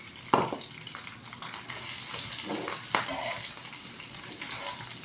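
Pork dropped into a hot pan sizzles and fries with a few sharp crackling bursts and stirring scrapes, steady and close throughout.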